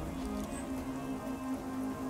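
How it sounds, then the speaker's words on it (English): Steady rain falls across a wide outdoor scene in the video game Generation Zero, a continuous hiss with a soft, low hum running beneath it. No voices are heard. "Rain kicking in."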